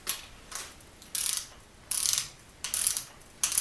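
A ratchet wrench snugs up a bolt on a 420A performance engine build, its clicking pawl sounding in five short close bursts of steady ratcheting with brief pauses between.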